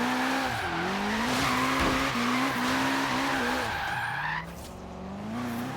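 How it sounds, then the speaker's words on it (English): Tire squeal from a car drifting in the Forza Horizon 3 racing game, a steady, loud screech with wavering pitch under engine drone that drops away near the end. "Oh, a little cheeky drift tap there."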